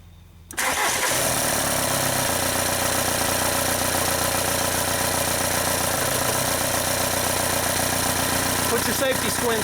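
A VW TDI diesel engine starts abruptly and then idles steadily during injector bleeding, a loud continuous clattering diesel rumble with even knocking rhythm held for several seconds.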